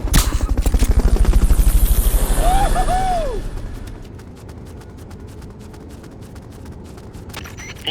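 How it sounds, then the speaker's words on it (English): The Fulton recovery helicopter in Metal Gear Solid: Peace Walker thumps with loud, rapid rotor pulses that fade out over a few seconds, leaving a softer mechanical whir and scattered clicks. "Fulton recovery helicopter is complete."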